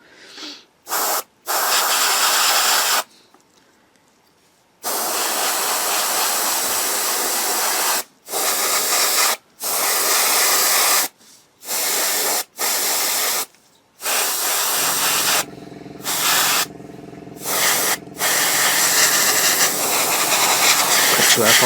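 An airbrush sprays paint onto a 1/35 scale Takom Centurion Mk10 model tank in repeated bursts of loud, close hissing air, some long and some short, separated by brief silences.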